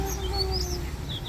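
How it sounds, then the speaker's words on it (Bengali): Several birds chirp and trill from a tree above a steady low rumble of outdoor background noise in heavy air pollution and haze, their calls light and fairly distant. "পাখি ডাকতেছে কোথায়"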